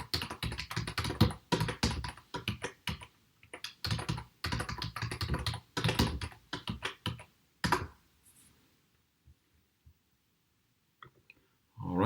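Rapid typing on a computer keyboard while entering a username, dense bursts of close key clicks for about eight seconds, then a few scattered taps amid near silence and one final burst.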